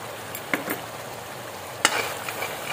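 Malvani masala for sukka chicken is stirred in a pan, giving a steady soft sizzle broken by a few sharp scrapes and taps of the spoon.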